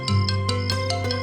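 A mobile phone rings indoors with a short electronic ringtone, a quick run of repeating pulsed tones over a steady low hum, fairly loud with no talk.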